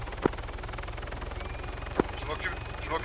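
Helicopter in the ArmA 3 video game, a steady rotor drone filling the background with two sharp clicks and voices talking over it.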